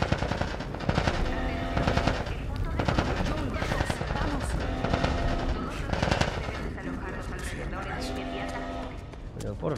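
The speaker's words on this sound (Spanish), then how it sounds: "¡Disparen, maldición!" Bursts of automatic gunfire from The Last of Us rattle repeatedly and loudly over a dense game soundscape, with shouting voices mixed in.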